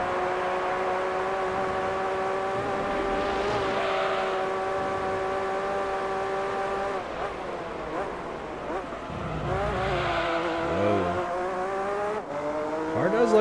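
A car's engine in Gran Turismo 3 drones steadily, then gives squeaky, squishy-sounding pitch drops at two gear changes before climbing again, heard up close with faint voices underneath.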